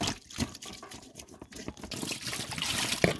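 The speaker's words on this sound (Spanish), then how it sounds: "voy a echar un poquito de jabón y agregarle agua" Water poured and trickling over raw ranch chicken pieces as they are washed with soap, a steady close splashing and dribbling stream lasting a few seconds with no talk.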